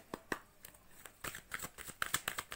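Tarot cards shuffled by hand, a run of quick close riffling snaps and soft slaps in an uneven rhythm, with no talk over them.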